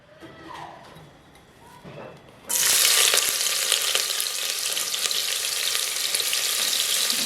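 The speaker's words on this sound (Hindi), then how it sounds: "ऑयल डालने के बाद आपने इसमें ये प्याज डाल देनी है।" Chopped onions hit hot oil for a Bannu-style beef pulao, bursting into a loud, steady sizzle partway through after a quieter stretch of kitchen sounds, then frying on continuously.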